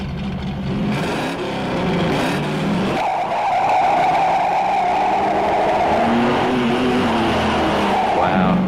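A 1969 Chevrolet Camaro Z28 with a DZ302 V8 and Coke-bottle body, heard as a loud, steady engine drone with tire skid and squeal throughout, and voices faintly in the background.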